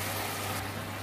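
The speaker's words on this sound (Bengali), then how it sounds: "পরিমাণ মতো জল দিচ্ছি" Water poured into a cooking pot for a potato and vegetable curry makes a steady, broad splashing rush that fills the brief moment without pause, no talking.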